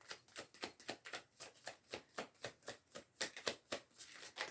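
Tarot cards being shuffled in the hands: a quiet, rhythmic run of crisp riffling flutters that repeats steadily throughout.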